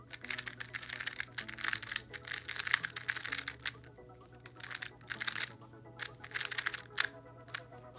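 Valk 2 M 2x2 speed cube being turned quickly, a soft rapid clicking and clacking patter held close, in bursts with short pauses.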